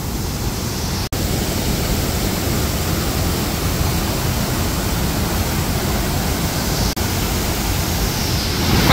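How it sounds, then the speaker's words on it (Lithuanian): Waterfall roaring at the top of the falls, a loud, constant broadband rush of water heard up close with no other sounds. "O čia jau pats viršus krioklio."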